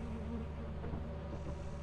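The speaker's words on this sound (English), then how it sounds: "The bees are right here." Bees buzz steadily in the video game Lethal Company, forming a continuous, even drone at moderate volume with no talking over it.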